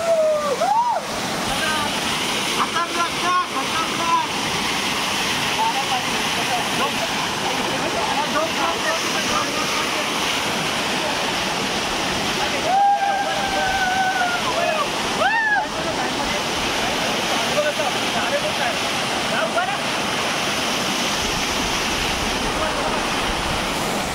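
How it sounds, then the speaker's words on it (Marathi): Roaring waterfall on a monsoon trek to Rajmachi fort, a steady broadband rush of falling water close by for the whole stretch, with voices and brief whistle-like calls heard over it. "हा बाहुबली बाहुबली मस्त धबधबा आहे."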